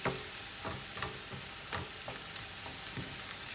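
Onions sizzle steadily in a pan for Anglo-Indian chicken curry, with a few soft clicks and stirring taps over the constant frying hiss.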